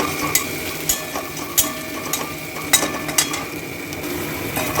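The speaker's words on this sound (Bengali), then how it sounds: "এবার এই মশলাটাকে কষাবো, মানে মশলা বলতে এই পেঁয়াজটাকে একটু লাল লাল করে ভাজবো" Onions with turmeric and a little sugar frying in a pan for shahi katla fish curry, a soft steady sizzle punctuated by repeated sharp scrapes and clinks of a spatula stirring, close by.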